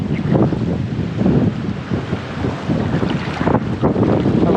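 Strong coastal wind buffets the microphone in loud, continuous gusts with rushing roar, no talking.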